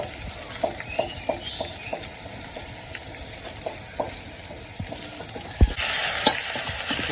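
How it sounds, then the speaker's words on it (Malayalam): Ground masala paste sautés in a hot pan with a steady sizzle, broken by repeated scraping strokes of a spoon stirring it; a louder hiss swells near the end, with no talking. "നന്നായിട്ട് വഴറ്റിയെടുക്കാം അപ്പോൾ നന്നായിട്ട് ഇളക്കി ഇളക്കി മിക്സ് ചെയ്തെടുക്കാം"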